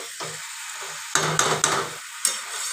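Chicken pieces stir-fried in hot oil in a pan for a kosha-style curry, with a steady sizzle and several sharp scraping stirs, close and alone without talk.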